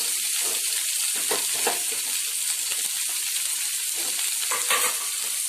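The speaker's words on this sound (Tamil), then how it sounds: "வெங்காயம் நல்லா வதங்கணும்" Onions and green chillies sautéing in a pan, a steady close sizzle with soft scraping stir strokes throughout, no voices.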